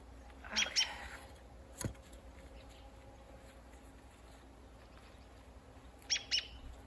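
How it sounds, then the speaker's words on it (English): A few short bird chirps in a garden, two quick clusters near the start and another near the end, fairly faint over a steady outdoor hum with a single sharp knock in between. "I only had to chase off 2 birds"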